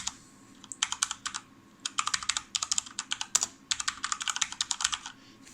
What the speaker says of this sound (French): J'aime bien le bruit de la frappe.